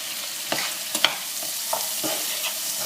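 Tomatoes fry in a pan with a steady close sizzle, broken by a few soft stirring scrapes and taps.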